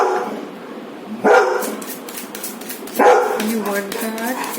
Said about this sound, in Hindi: my dog is barking